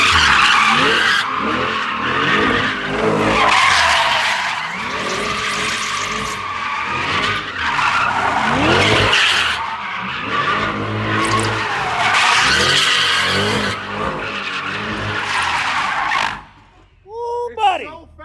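A Chevrolet C8 Corvette with a dual-clutch transmission skids hard, its tires squealing loudly and almost continuously with engine roar for about sixteen seconds before cutting off abruptly.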